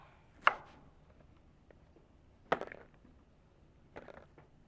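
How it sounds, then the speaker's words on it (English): A knife chops food into small pieces on a board in three sharp, separate strokes with quiet pauses between, close and clear, no talking. "So I'm going to cut these into really small pieces and put them in this bowl."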